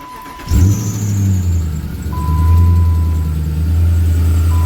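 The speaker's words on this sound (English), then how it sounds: "Bit of a fan belt squeal there." Chrysler 300C HEMI V8 cranks and fires up, then settles into a steady loud idle with a thin high fan belt squeal running through it, all close to the microphone with no talk.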